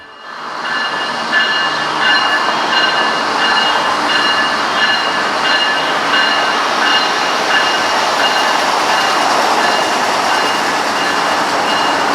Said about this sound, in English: barely managed to catch what ended up being an ethanol train slowly rolling out in